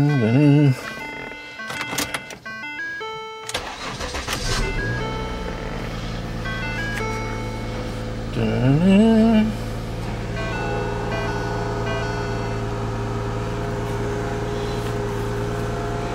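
After some brief, jumbled noises, an old Subaru or Lincoln car engine at a scrapyard runs with a steady, droning hum like a giant air compressor, and a short whine rises and falls partway through.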